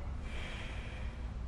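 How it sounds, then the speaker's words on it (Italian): One forceful exhale blows out through a single nostril during alternate nostril breathing, a short rushing snort of air heard up close. "Riprendo aria dalla sinistra, butto dalla narice destra"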